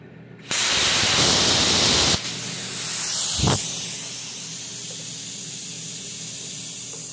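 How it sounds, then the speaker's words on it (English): Compressed air at 60 psi rushes steadily through a plasma cutter fitted with gouging consumables, a loud, continuous broadband hiss with a brief sharper burst partway through and no talking. "So with the air flowing, I'm at 60 psi according to that gauge."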